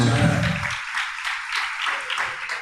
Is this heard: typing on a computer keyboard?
no